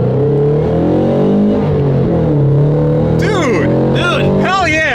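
A Japanese sports car's engine revs up and holds a loud, rising drone, with shifting harmonics as it accelerates; sharp chirping squeals cut in near the end.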